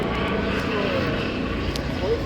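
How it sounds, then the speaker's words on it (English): A steady engine drone of a yellow helicopter passing overhead fills the background of a Mainz city centre street while people talk nearby. "Yellow helicopter."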